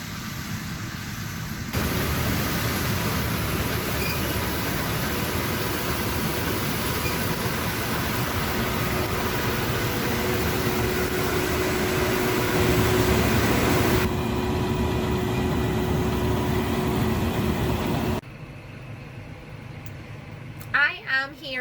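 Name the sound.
tractor engine running during barley harvest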